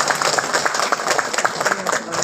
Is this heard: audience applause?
yes